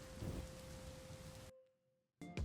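Steady rain in a video game storm, a dense wash of falling drops with a low rumble and a constant tone, cutting out abruptly into near silence before returning briefly at the end.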